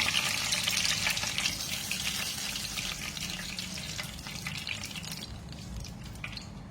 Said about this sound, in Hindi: कबाब फ्राई हो गए, मैं इसको निकाल लूंगी। ऑयल निकाल देंगे इसका।